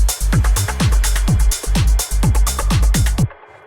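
A punchy deep minimal house percussion loop of repeated deep thumps with short clicky hits, playing in a steady groove for a few seconds before stopping.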